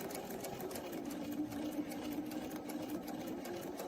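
A sewing machine runs slowly and steadily, stitching a quilt along its original stitch line, with an even mechanical whir close by and no talking.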